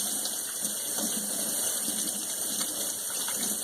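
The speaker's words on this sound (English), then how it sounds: "So now I'm washing my hands again." Running tap water pours steadily over hands being washed in a kitchen, a constant hissing gush with faint splashes, near and fairly loud, alone without speech.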